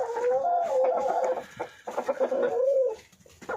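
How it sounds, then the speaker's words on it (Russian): Chickens cluck steadily in a farmyard on a frosty day, close and fairly loud, with overlapping calls and a brief lull partway through. "Я такая прихожу курочек кормить."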